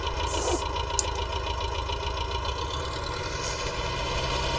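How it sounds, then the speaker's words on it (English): A David Brown 990 tractor, fitted with a plough and front loader brackets, idles steadily on a farm, its engine rumbling in an even low throb close by, with no talk. "so far this is the only tractor we've got on the farm."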